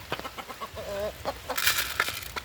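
Chickens are being fed, giving off a run of close short clucks and murmuring calls, with a brief rustle or flap of wings partway through.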